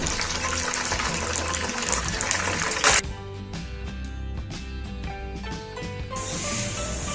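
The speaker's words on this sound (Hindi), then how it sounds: "इस पॉइंट पे मैं इसमें डोनट्स डालना शुरू कर दूंगी" Potato donuts slide into hot frying oil, giving a loud, steady sizzle that drops to a softer crackle partway through, then swells again near the end.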